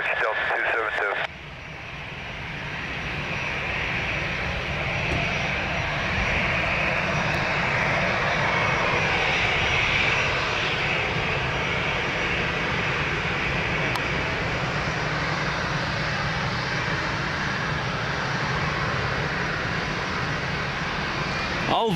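A Delta airliner on approach at Lisbon Airport, its engine roar droning steadily and fairly loud throughout, with radio voices sounding over it.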